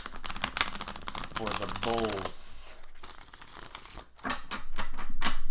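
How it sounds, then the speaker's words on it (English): Tarot cards are shuffled by hand in rapid riffling and crinkling bursts, close up, while a person talks over parts of it. "Couple more shuffles here for the Tauruses."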